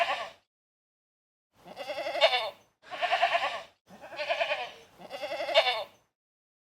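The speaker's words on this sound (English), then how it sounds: "It's a goat." Goat bleating five times in a row, each cry a loud, wavering, nasal call lasting under a second, with short silent gaps between, close and alone.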